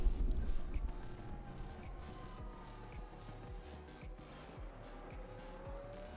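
Race car engines at Imola in the F1 Manager 22 video game, with tires locking up and squealing as cars pass, loudest at the start and then a steady whine of engines and faint screeches, with no talking.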